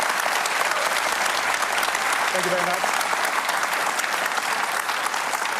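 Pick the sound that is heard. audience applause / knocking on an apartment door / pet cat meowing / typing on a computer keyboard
audience applause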